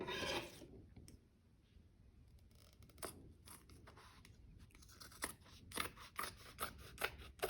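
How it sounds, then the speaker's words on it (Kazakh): Scissors snip through excess fabric while a clutch bag is being sewn, with a soft rubbing, rasping handling noise first and then a quick run of crisp, close cuts toward the end. "Енді мына артылып тұрған маталарды қиып тастаймын."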